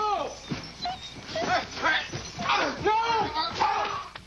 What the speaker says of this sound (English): I could hear Duke kind of whimpering